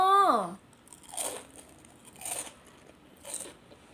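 Crispy deep-fried golden needle (enoki) mushrooms crunch three times in close, evenly spaced bites after a brief vocal sound at the start.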